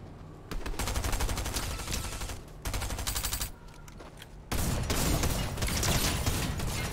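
Gunfire in the video game Fortnite comes as loud, close bursts of rapid shots in three separate stretches, each cutting off abruptly with short gaps between them and no voices over them.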